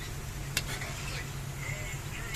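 Garlic tilapia sauce of dairy cream, garlic and pepper stirred in a pan, a soft steady scraping and faint sizzle with one small utensil clink, close and continuous, no talking.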